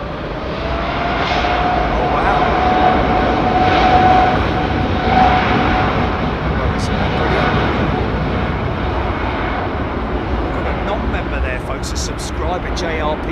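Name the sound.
jet airliner doing a rolling start for takeoff at Heathrow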